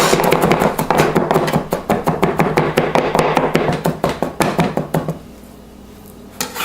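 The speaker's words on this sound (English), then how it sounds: "Take off the ends, smash, and then mince" A garlic clove is minced with a knife on a cutting board in a fast run of close, sharp chopping taps that stops near the end, leaving a brief quiet gap before one last tap.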